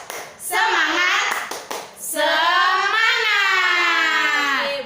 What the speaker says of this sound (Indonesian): Kalau mau tahu kita tepuk semangat dulu biar tambah semangat yuk